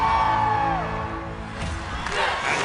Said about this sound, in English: Check out this crowd.